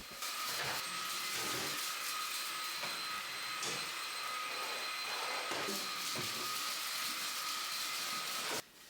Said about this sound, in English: I'm also going to take the vacuum down the hallway and into the living room here